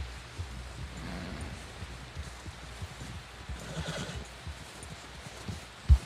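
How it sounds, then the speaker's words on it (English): A horse in the video game Red Dead Redemption 2 snorts and whinnies amid soft hoof clops and rustling, ending with a sharp thump. "Someone help John down off this horse."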